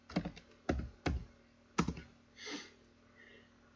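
A computer keyboard is tapped while entering WuBi code for Chinese characters: a handful of distinct, close key clicks with short gaps, then a softer brushing sound near the end.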